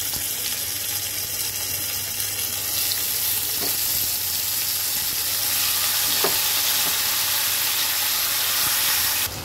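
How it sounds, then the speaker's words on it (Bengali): Boiled taro leaves dropped into hot oil with garlic sizzle steadily in a pan, a continuous loud frying hiss with a few soft stirring knocks and no voices. "এখন আমি দিয়ে দেব সেদ্ধ করা কচু শাক।"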